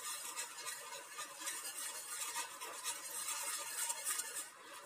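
Gram flour (besan) stirred into hot sugar syrup in a pan over a very low flame for Mysore pak. A steady, soft, continuous scraping and bubbling hiss runs throughout with no pauses.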